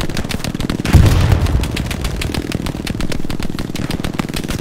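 Machine gun fire in the World War II shooter Hell Let Loose, fought inland from Omaha Beach: a steady, rapid stream of shots that swells near the start and keeps hammering at an even rhythm to the end.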